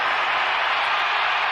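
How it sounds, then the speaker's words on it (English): Stadium crowd at an NFL game roaring after a Philadelphia Eagles touchdown, a loud, steady wall of cheering and noise that holds evenly without a break throughout. "Crowd hates it."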